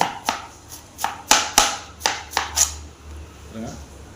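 A knife chops bottle gourd finely and rapidly on a cutting board, about nine quick, sharp strikes in an uneven rhythm, close up, then a soft rustle.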